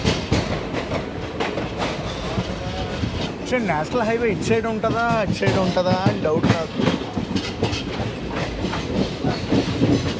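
Satavahana Superfast Intercity Express running between Vijayawada and Secunderabad, with a steady rumble and rhythmic wheel clatter throughout, heard from inside a crowded carriage while someone talks over it.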